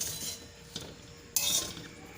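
Mango rice being mixed in a pan with the flame off: faint scraping and stirring with a spoon, with a couple of light metallic clinks, one sharper than the rest.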